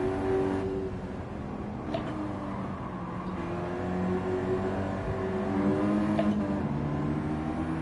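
Race car engines in Gran Turismo 7 on PS5: a sustained whining engine drone that holds and swells steadily, with small gear-shift dips and faint tonal whir, loud and continuous with no talk.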